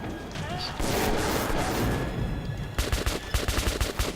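Gunfire in the video game Metro 2033 Redux, dense booming shots and crashing impacts followed by a quick rapid burst of automatic fire, loud and close, with someone talking over it.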